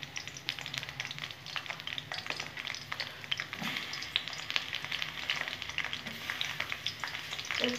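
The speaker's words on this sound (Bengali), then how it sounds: "শুরুতে আমি একটু বেগুনগুলো ভেজে নেব, ভেজে উঠিয়ে রাখবো বেগুনগুলো" Eggplant pieces frying in hot oil in a pan, a steady crackling sizzle with occasional pops, continuous and fairly close, no voices.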